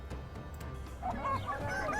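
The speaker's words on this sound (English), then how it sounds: "Nope, that's chickens." Chickens in the video game Republic of Pirates, short honking clucks and squawks rising over a low steady background hum, growing busier in the second half.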